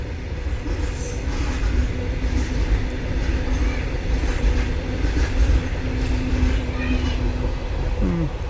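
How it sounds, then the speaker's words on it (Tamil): A long train rolls past in the evening, a loud, continuous rumble of wagons with wheel squeal and rail clatter, and a voice is heard faintly underneath. "தொடர் வண்டி நீண்ட தொடர் வண்டி தான் போயிட்டுருக்கு"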